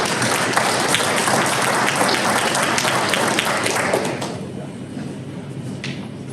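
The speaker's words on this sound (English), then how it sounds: "we give them a round of applause, please" A room of people claps for a committee member and a guest, the applause dense for about four seconds before thinning to scattered claps.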